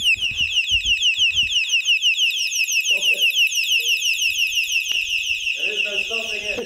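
A cheap cycling gadget bought from Wish sounds a loud, piercing alarm, a continuous rapidly pulsing electronic wail that carries on throughout while people talk faintly beneath it.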